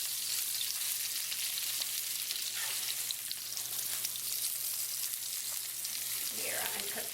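Herbal fried chicken sizzling in a pan just after being flipped, a steady bright crackle and hiss of frying oil with occasional pops, close and continuous over a faint low hum.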